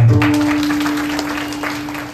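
Listeners at a devotional kirtan gathering clap together in a moderate burst of applause that slowly fades, with a steady tonal hum running underneath.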